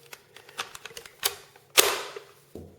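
Brother P-touch label maker printing and feeding tape, a run of quick close clicks and ticks followed by a louder mechanical whirr and a final short burst.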